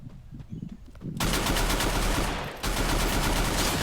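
Sustained automatic gunfire in the Free Fire battle royale game, a dense rapid burst that fills the mix from mid-clip onward, briefly dipping before resuming at full loudness.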